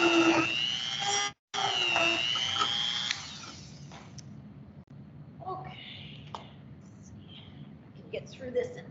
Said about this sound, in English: Okay, now I'm going to drill these.